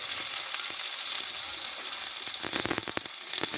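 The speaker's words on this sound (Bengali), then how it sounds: "এই মশলাটা একসঙ্গে ভালোভাবে কষিয়ে নেবো" Spice paste of ground green chilli and whole cumin with a large tomato, salt and turmeric sizzling and being stirred in a pan while cooking jackfruit curry; a steady close fry with scraping clicks, no voices.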